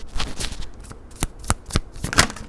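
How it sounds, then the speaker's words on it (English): Tarot cards shuffled and flipped by hand, a run of soft papery riffling broken by several sharp slaps and snaps as cards turn over, close and fairly loud, with no talking. "Oh, two cards flipped over."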